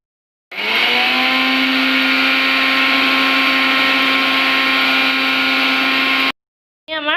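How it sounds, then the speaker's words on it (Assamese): An electric mixer grinder grinds soaked rice into powder, whirring as one loud steady high-pitched whine for about six seconds before stopping abruptly, followed by a brief rattle. "এতিয়া এখিনি আমি মিক্সিত মাৰি ল'ম।"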